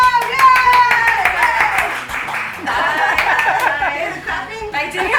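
A small studio audience claps in a quick, dense burst of hand claps, mixed with cheers, laughter and chatter, fading slightly then picking up again.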